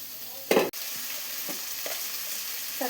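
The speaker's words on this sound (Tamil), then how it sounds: "இப்போ நம்ம தக்காளி சேர்த்துக்கலாங்க." Chopped tomatoes hit a pan of sautéed onion, ginger and garlic for a chicken gravy, with a brief loud splash of sizzle at the start, then a steady soft frying hiss and a few light stirring scrapes.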